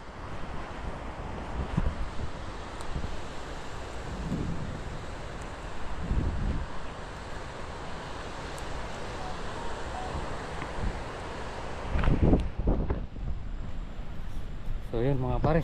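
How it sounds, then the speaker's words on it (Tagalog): Strong typhoon wind roars and buffets the microphone in gusts, with rushing water and surf underneath; a few heavier blasts come near the end. "Sobrang lakas ng hangin."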